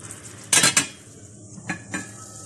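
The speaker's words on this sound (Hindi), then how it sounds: "चिकन को पकते हुए तकरीबन 5 से 7 मिनट हो चुके हैं।" Chicken shashlik cooking down in a pan with sauce, a few sharp metal clinks and scrapes of a utensil against the pan over a faint background, no talking.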